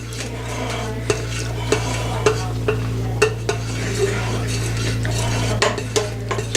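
A spoon stirs boiling fudge candy in a cooking pot, scraping and clinking against the metal in a steady, repeated rhythm over a constant low hum and a faint bubbling background.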